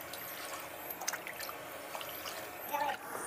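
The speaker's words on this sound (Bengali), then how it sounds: "জল দিলাম" Water trickling and pouring into a cooking pot while preparing a chicken curry, a steady faint splashing stream with a brief louder gurgle near the end.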